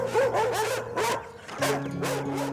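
A nine-month-old American Bulldog puppy, deaf and rescued while dangerously thin, gives a series of sharp yipping barks close up, in several quick bursts with short pauses between them.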